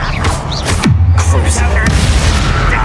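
A Confringo blasting spell in the Hogwarts Legacy video game bursts with a deep boom, followed by a low rumbling tail under game noise and combat effects.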